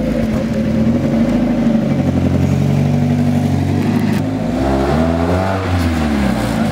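A Mazda Miata with a muffler delete and resonator revs loud and close, its raw engine note rising and falling in steady pulls with no talk over it.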